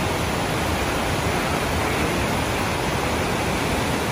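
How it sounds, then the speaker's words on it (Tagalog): Aliwagwag Falls in Davao roars as a steady, loud, broadband wash of falling water heard from a bridge, dense and unbroken throughout with no voices. "Aliwagwag Falls yan"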